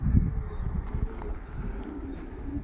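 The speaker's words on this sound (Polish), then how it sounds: "Chyba się pozakręcały te gołębie dzisiaj okropnie." Yearling racing pigeons circle over a loft, and their wings flap in soft, fluttering bursts against a low outdoor rumble, with faint chirps overhead.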